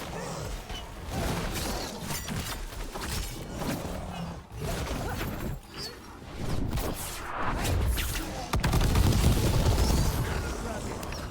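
Booming explosions and rapid gunfire bursts in the video game Dragon Age: The Veilguard crowd the mix, with players talking over the chaotic, continuous battle noise.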